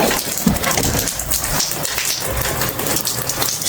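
A mix of rain and snow falls steadily in Romania, making a dense, continuous hiss and patter on surfaces that stays close and fairly loud, with no voices.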